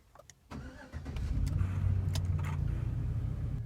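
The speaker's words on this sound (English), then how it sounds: "So now we're going to go ahead and start the engine" A car engine in a home garage cranks over after a few faint clicks, catches and settles into a steady, low idle, heard close and alone.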